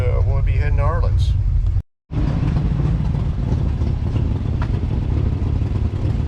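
A 1964 Dodge Coronet 440 engine runs rich on choke with a steady low idling rumble, briefly cut out near two seconds, with talk over the start.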